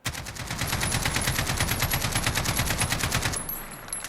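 An AKMS rifle in Call of Duty: Modern Warfare fires a single unbroken full-auto burst, a fast, even rhythm of loud, close shots lasting about three seconds before cutting off into a faint tail.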